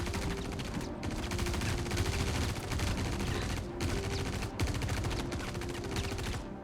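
Sustained automatic gunfire in the space game Star Citizen: dense, loud, rapid bursts that roar almost continuously, broken by a few brief gaps, with no voices over it.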